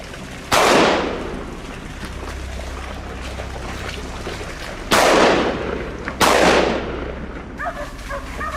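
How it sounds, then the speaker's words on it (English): Gunshots ring out while hunting wild boar in a swamp, three sharp loud blasts with long decaying echoes, the last two close together, over a low steady background rumble. "Startled by the gunshot"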